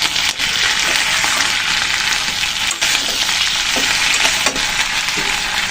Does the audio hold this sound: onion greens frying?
yes